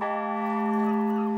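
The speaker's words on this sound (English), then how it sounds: "the chimes rang and the bell tolled" A church bell tolling in Veere, Holland, one loud, close, sustained ringing tone with steady humming overtones throughout.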